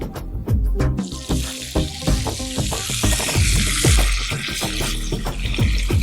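Mustard seeds and curry leaves hit hot oil for tempering, to be poured over nethili fish aviyal. Dense, rapid popping and crackling rides over a loud, steady sizzle, close by, with no talk.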